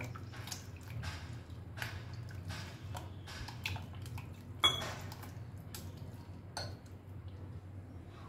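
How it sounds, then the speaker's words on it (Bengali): Mashed taro is mixed in a pot while water goes in little by little for a Bengali lentil dish, giving a steady run of soft squishing and spoon clinks against metal, with one sharper knock midway. "এখন আমি এর মধ্যে অল্প অল্প করে জল দিয়ে দেব। ভালো করে আবারও মিশিয়ে নেব সব।"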